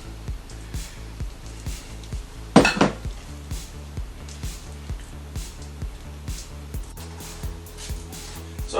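Spoon scraping and clinking against a metal pan while pulling honey glaze off the bottom of a baking pan for ham, a steady run of soft metallic taps with one sharper, louder clatter near the middle.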